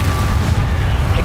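A loud, dense burst of booming magical effects erupts from the Expelliarmus spell being cast in Hogwarts Legacy, sustained and forceful across the whole moment.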